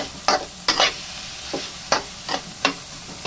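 Mixed vegetables with ground pork get stirred in a pan, a spatula scraping in about six distinct strokes spread over a few seconds against a low background.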